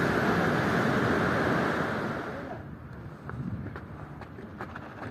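Waves on a Tenerife beach near Puerto de la Cruz and Playa El Bollullo roll and wash in a steady broad roar, with wind noise on the microphone. The surf is loud at first and then eases.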